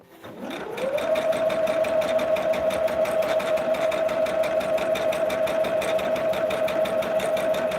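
A sewing machine stitching a table runner starts up and then runs at a steady, fast mechanical hum with a rapid needle chatter, close and continuous, with no talking.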